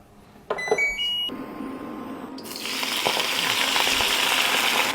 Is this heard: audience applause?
no